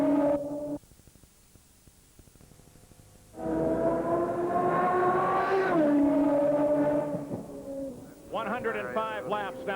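IndyCar race cars at speed during a 1994 race: engines rise in a loud, high-pitched whine as they pass, with gear changes and pitch shifts, then a quieter gap and another car screaming by, under commentary.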